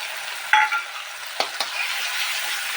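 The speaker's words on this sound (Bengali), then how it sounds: "এটা দিয়ে ভালোভাবে আমি কষিয়ে নেব" Green chili and ginger paste being stir-fried with fried onions in a pan for a prawn curry: a continuous close sizzle with a few sharp scrapes and knocks of the spatula, no talking.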